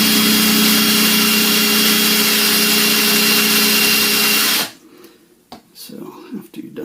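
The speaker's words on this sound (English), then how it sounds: "So we're going to get the trusty drill and we're going to chuck it up just like you would a drill bit." A power drill whirs loudly and steadily, spinning RC shock parts from a Hobbypark set as they are sanded, then cuts off abruptly, leaving handling clatter and faint sounds.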